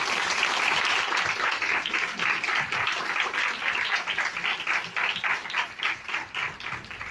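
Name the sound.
audience applause for the speaker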